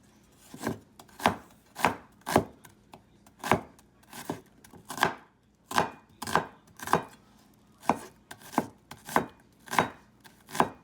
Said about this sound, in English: Dice the onion.